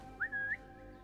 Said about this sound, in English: I wonder if I can whistle this guy up.